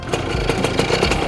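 Yamaha F1ZR two-stroke motorcycle engine running at idle: a steady, close, buzzing putter with a quick uneven pulse throughout, no voices.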